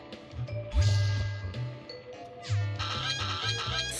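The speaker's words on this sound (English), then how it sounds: "Furious bird noises" Agitated bird squawks and clucking calls from the video game CrossCode, a loud burst of harsh, honking cries in two clustered waves over a busy game soundtrack, with no talking.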